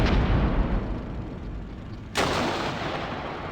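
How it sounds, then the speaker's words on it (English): Medium mortar fire in Armored Brigade 2: a dense rumbling battlefield roar, then a sharp, loud blast lands near the end and leaves a heavier, brighter rumble ringing on afterward. "We'll drop some medium mortars right on their head."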